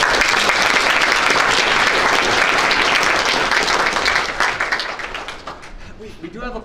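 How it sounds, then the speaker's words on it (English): Sustained applause from an audience at a university college faculty and staff meeting, steady dense clapping that fades toward the end with some voices underneath. "Would you please give them a round of applause?"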